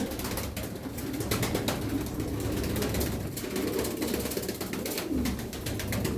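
Tumbler pigeons in a loft keep up low, rolling coos under constant scratchy clicks and wing flutters, a steady close chorus with no one speaking.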